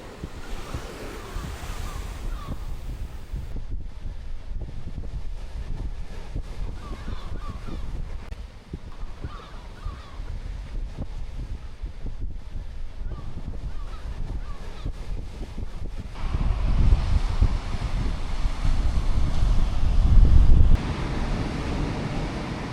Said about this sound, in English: So I've just made it along to Towan Beach on the Roseland